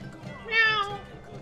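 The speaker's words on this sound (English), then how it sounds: "I'm happy this city is a town of cats" A cat's meow in the video game Tales of Berseria, a single clear, bright mew of moderate loudness heard over soft background sound.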